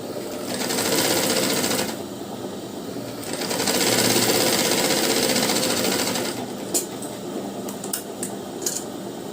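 A sewing machine stitches a lined blouse, running in steady continuous bursts with a brief pause, then fainter clicks and handling near the end.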